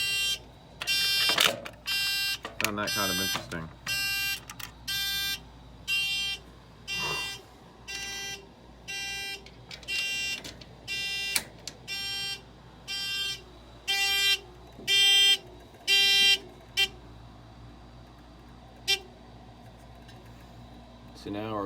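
Simplex 4100 fire alarm panel buzzer sounding in alarm, a series of loud pulsed electronic buzzes at a steady rhythm, with someone briefly talking early on.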